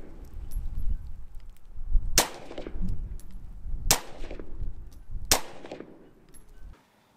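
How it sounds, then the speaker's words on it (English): Three sharp rifle shots are fired at a target 10 yards away, spaced a couple of seconds apart, each a loud crack with a short decaying ring, over low background rumble. "These shots are taken from 10 yards while aiming at the X at the center of the head."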